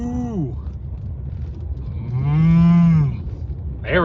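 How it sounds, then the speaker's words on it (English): A cow lows loudly in a field on the High Plains, one long drawn-out moo rising and falling near the middle, with a shorter call starting at the end over steady wind noise. "We got the cows out here too as well"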